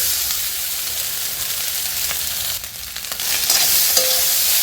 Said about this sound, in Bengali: এবার একটু ভাজা ভাজা করতে থাকবো।